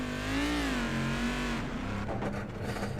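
Race car engine in the iRacing video game during a multi-class race, a loud close revving whine that holds, dips and climbs through gear changes, with faint tire noise at the end.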